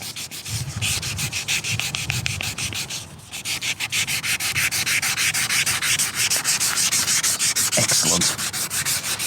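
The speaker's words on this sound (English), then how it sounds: "so I had to sand it all down, start again." Lacquer on a classic Mini's paintwork is sanded by hand in quick, rhythmic back-and-forth strokes, a steady close scratchy rasp running throughout with no speech.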